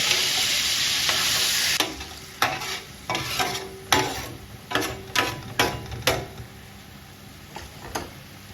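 Onion caramelizing in broth in a paella pan sizzles loudly at first, then a spoon scrapes and stirs in a run of sharp, rhythmic strokes over a softer bubbling simmer.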